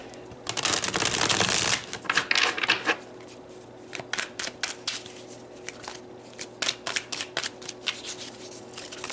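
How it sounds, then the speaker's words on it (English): A tarot deck is shuffled close up: a long riffling burst, then a run of shorter crisp shuffles and taps. "I just want to shuffle these really good since we used so many of them."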